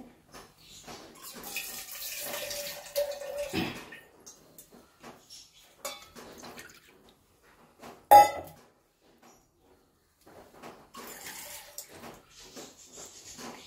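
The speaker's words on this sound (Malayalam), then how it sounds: "ഇതിലേക്ക് 1 കപ്പും കൂടെ വെള്ളം ഒഴിച്ചെടുക്കുന്നുണ്ട്." Water pours steadily into a pot for a few seconds, with scattered clinks of cookware and a sharp knock partway through.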